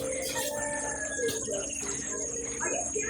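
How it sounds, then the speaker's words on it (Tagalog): Roosters and fighting cocks crowing and clucking around a rural Philippine farm in the morning, several scattered calls at moderate distance over a steady background hum. "marami kayong maririnig na mga huni ng manok"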